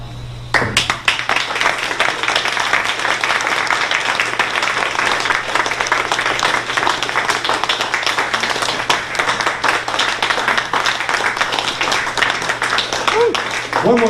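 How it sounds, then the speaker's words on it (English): Sustained audience applause at a Bloomsday literary reading, dense clapping from a sizeable crowd continuing steadily for the whole stretch with a faint underlying hum. "One more round of applause for all our wonderful readers and our presenter, Randolph."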